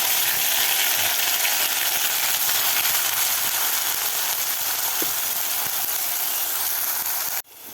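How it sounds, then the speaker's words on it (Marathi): Ground masala paste from the mixer going into plenty of hot oil, giving a loud, steady hissing sizzle that fills the clip before cutting off abruptly near the end. "आता या तेलामध्ये आपल्याला हा मिक्सरमधून काढून घेतलेला मसाला घालायचा आहे."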